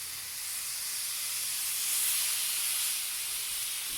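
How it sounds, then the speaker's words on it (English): Steady, bright sizzling of steak on a hot grill, a continuous close hiss that swells slightly in the middle, with no voices. "you can really hear the sizzle here"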